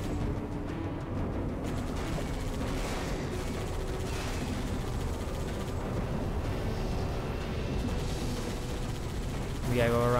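Big explosions rumble through the Halo 3 video game, a loud continuous roar of blasts and gunfire-like crackle lasting throughout, with a person talking over it.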